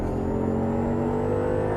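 A race car accelerates on the track at Las Vegas Motor Speedway, its engine note climbing steadily in a loud, close, continuous roar over a short burst.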